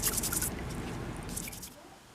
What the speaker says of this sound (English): I'll scrub this real good. I'll probably rinse it in just plain water